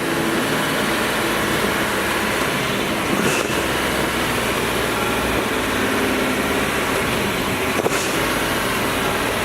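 A 1961 Chevrolet Bel Air with a stroked 413ci engine and four-speed drones steadily throughout, revving quickly and rumbling loudly with road noise, no voices.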